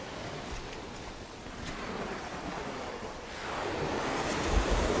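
Surf rolls in steadily at Cacra Bank Beach in Worthing, Barbados, with a broad wash of waves and wind. The rush swells louder in the last couple of seconds as a bigger wave breaks nearby.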